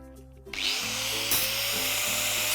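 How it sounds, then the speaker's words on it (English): An angle grinder cuts through metal brackets for an Absco Fortress shed roller door, starting abruptly with a loud, sustained high-pitched whine and grind that rises in intensity partway through and continues steadily. "Using an angle grinder, we're going to cut that off"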